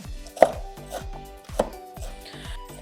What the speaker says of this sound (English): this is not the best way to cut onions